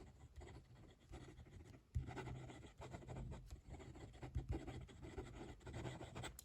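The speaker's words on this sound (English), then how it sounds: "Quick writing." Quick handwriting with a Jinhao 82 mini fountain pen on paper makes soft, close scratchy strokes in an uneven rhythm, with short pauses between bursts of writing.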